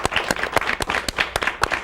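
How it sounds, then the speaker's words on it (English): Applause from a small audience at a community talk show, scattered individual claps forming an uneven, moderately loud patter that carries on without pause. "Let's give them a big round of applause."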